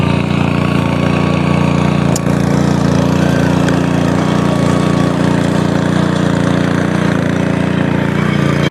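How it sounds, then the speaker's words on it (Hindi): A tractor engine drones continuously and evenly as it moves between terraced farm fields, a steady close chugging with no talk. "ले जा रहे हैं ट्रैक्टर को दूसरे खेत में।"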